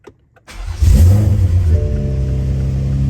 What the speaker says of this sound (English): now we actually start the engine